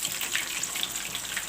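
Fish coated in masala and vinegar frying in a pan, a steady, close hiss of bubbling oil running without a break.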